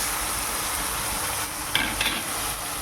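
Tomato masala for dried fish with Malabar spinach frying and being stirred in a pan, giving a steady close sizzle with a few brief louder scrapes near the end.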